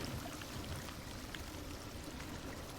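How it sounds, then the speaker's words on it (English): Floodwater in Drain Sim pours steadily down into a street drain, a continuous close rushing stream with no pauses. "Okay, that's draining down there."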